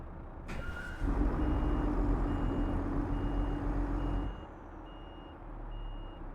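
A Renault Range T truck engine idles in Euro Truck Simulator 2 with a sound mod, a low steady rumble and a constant tonal hum, then drops quieter after a few seconds while the idle continues.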